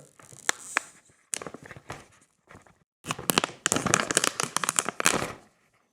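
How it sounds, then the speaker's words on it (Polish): Gluten-free brownie mix poured from its packet into a deep bowl, giving dry rustling and crinkling in irregular bursts with short pauses, then a longer, denser pour close by. "Do miski wsypujemy zawartość całą."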